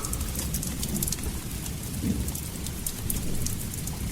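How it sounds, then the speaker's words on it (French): Heavy rain pours as part of a radio drama effect, a dense hiss of drops hitting surfaces with low thunder rumbling underneath, loud, steady and close throughout. "La pluie arrive plus tôt."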